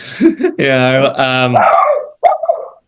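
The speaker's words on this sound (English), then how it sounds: "There's a dog in your house." A pet dog named Percy barks and yelps indoors, a few short loud barks followed by a longer harmonic whine-like yelp, with people's voices around it in a house.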